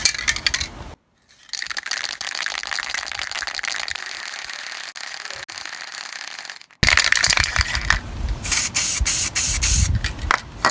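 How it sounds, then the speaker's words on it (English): An aerosol can of paint is shaken and then sprayed into a pot lid during rust repair on a car's front wing, giving a loud, steady hiss in long bursts with a brief pause in between, close to the listener. "we'll spray it in the lid and then paint it on with a paintbrush"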